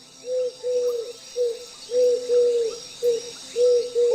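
In a cartoon forest, a bird sings a repeated, tonal call of short, even notes in a steady pulsing rhythm, close and clear over a quiet background.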